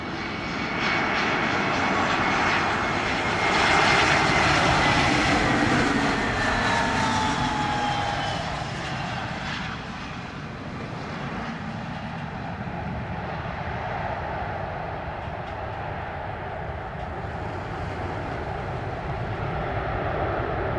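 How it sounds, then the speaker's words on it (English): A fixed-wing airliner landing on the first flight back into Jamaica after the airports reopened, a loud continuous engine roar that swells and then eases into a steady rumble as it rolls out, heard from nearby. "You should listen in on this conversation right after the aircraft lands."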